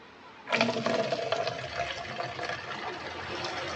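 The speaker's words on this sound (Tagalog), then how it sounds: "Ang tabo na to lalagyan natin ng tubig" Water pours into a plastic dipper (tabo) with a sudden loud rush that settles into a steady, close splashing stream lasting several seconds, with no voices.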